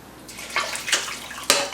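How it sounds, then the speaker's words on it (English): Boiling water poured from a kettle or pot over bones in a pot for bone broth, coming through as a few short splashing pours close by, with a louder final gush near the end. "Now, I'm gonna pour boiling water over the bones."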